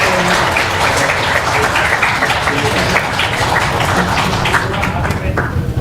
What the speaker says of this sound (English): A big round of applause for her grace